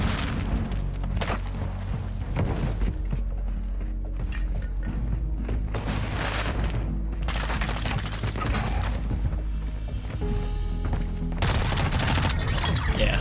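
Dense Call of Duty gunfire in a multiplayer match, overlapping bursts and explosion-like thumps forming a steady chaotic battle din at moderate level, with no clear speech.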